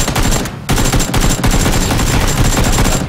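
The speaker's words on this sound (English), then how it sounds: "That might be that there's people shooting." Rapid automatic gunfire from the battle royale game PUBG, dense bursts of shots rattling loudly and continuously with a brief pause near the start, no talking over it.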